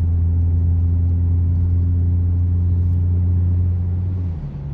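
A 3.7 V6 Mustang engine drones at a steady low rumble while cruising, then the pitch drops slightly near the end as it shifts into sixth gear; loud, close and continuous with no talking.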